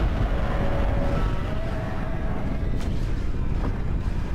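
A huge nuclear explosion in a Minecraft Godzilla Minus One addon rolls on as a loud, dense low-frequency rumble with faint crackles, and nobody speaks over it.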